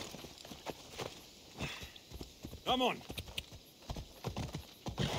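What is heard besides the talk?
horse hooves and neighing in Assassin's Creed Odyssey video game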